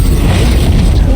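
A Bombarda blast spell goes off in Hogwarts Legacy: one loud, continuous booming burst that stays dense and rumbling low throughout, with no voices over it.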